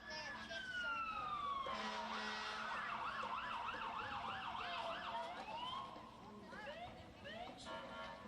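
A police car siren wails, sweeping up and down steadily, then shifts into a faster yelp, loud and fairly close, at a county fair parade, with people talking underneath.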